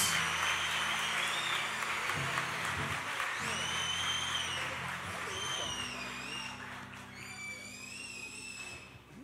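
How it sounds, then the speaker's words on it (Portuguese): A congregation at a men's church retreat claps together in praise, a broad continuous wash of applause with sustained melodic tones above it and a voice speaking intermittently. "Você pode dar uma salva de palmas então ao Senhor, louvando a Deus"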